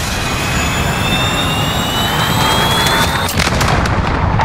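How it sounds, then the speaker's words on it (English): A cruise missile streaks in and explodes during a Call of Duty: Modern Warfare hardcore Domination match at Suldal Harbor, a loud, continuous roaring rush with a sharp blast near the end, with no talking. "Cruise missile ready."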